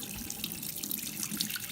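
Warm water runs steadily from a faucet into a sink, wetting and softening a konjac skin-care sponge; a close, continuous splashing stream with no one talking.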